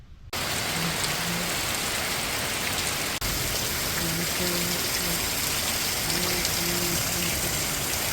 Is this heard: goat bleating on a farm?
no